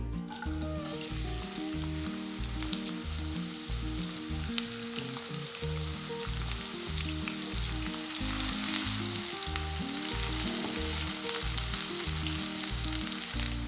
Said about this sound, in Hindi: प्याज को हम अच्छे से लाइट ब्राउन कर लेंगे